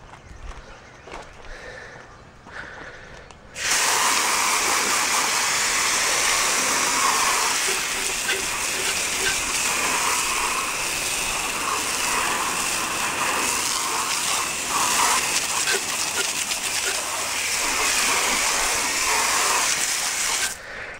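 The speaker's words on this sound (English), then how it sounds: "let's give it a quick rinse" Water sprays steadily onto a car wheel, rinsing off Griot's Garage Heavy Duty Wheel Cleaner and soap: a loud, continuous hissing gush that starts abruptly after a few seconds of quieter background and runs unbroken to the end.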